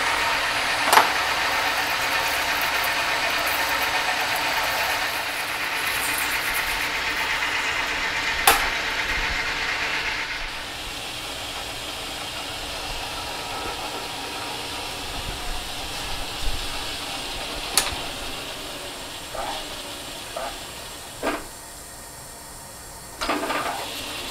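A lathe threading tool cutting a thread on a chuck spindle adapter, a steady loud hissing, chattering racket that drops quieter partway through, with a few sharp clicks and knocks.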